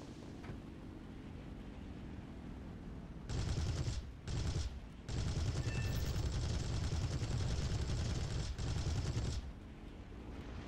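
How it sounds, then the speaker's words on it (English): Aircraft cannons firing in the War Thunder combat game: two dense, loud bursts of rapid automatic fire with a brief gap between, over steady engine drone, no voices. "These have to be the most worthless cannons in existence."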